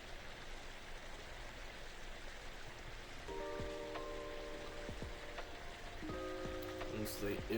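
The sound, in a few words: rain sound effect in a scene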